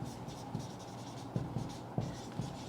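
A pen or marker scratches across a writing surface in short, quiet strokes with a few sharper taps, close by in a quiet room with no talk.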